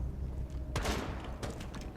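Gunfire in the online shooter Rainbow Six Siege, a sudden burst of shots followed by a second, shorter volley, fairly quiet in the game mix.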